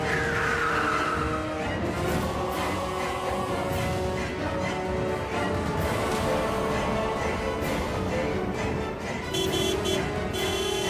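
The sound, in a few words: car screeching to a stop near a pedestrian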